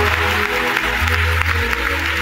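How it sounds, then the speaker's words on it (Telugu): Congregation at a Friday fasting prayer service clapping hands together in a steady, continuous wash, with low music or a sustained hum underneath. "కొట్టు చప్పట్లో"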